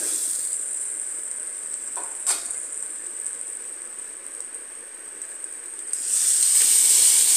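Ginger paste and ground spices fry in a pot of khichuri with a steady, even hiss of sizzling that swells louder near the end, with one faint clink partway through.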